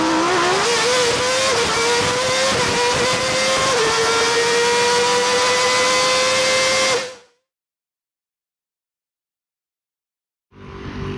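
A Volkswagen Gol GTI roars past loudly, its engine note holding steady and climbing slightly for about seven seconds before cutting to sudden silence, with a brief return of traffic noise near the end.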